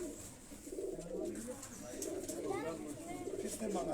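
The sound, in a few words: Kasuri and Lahori pigeons cooing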